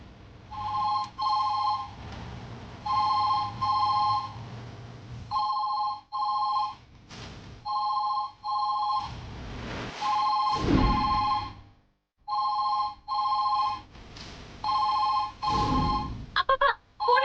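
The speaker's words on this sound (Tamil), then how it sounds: "போன் எடுமா." A telephone rings in a domestic scene, in repeated double-burst rings with short pauses between them, loud and close, with a few brief thumps and background movement between the rings.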